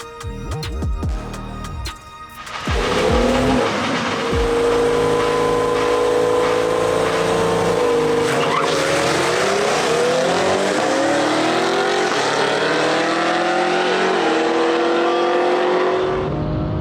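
A BMW F30 340i launches at a drag strip: after a brief revving start the engine roars loudly, climbing steadily through sustained acceleration and shifts, then cuts off abruptly near the end.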